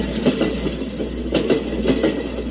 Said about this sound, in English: That's a train, without question.